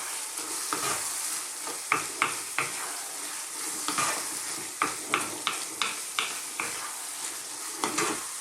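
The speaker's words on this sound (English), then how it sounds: "Now we're going to stir that in" A spoon is worked through tomato masala in a hot pan for minced beef and potatoes, giving a continuous close sizzle broken by repeated rhythmic scrapes and knocks against the pan.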